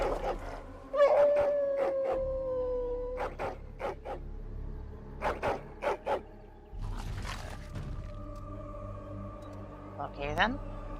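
Wolves howl in the fantasy video game Dragon Age Origins, long rising and falling howls layered with bursts of growling and snarling combat noise, loud and close, ending in a final sharp yelp.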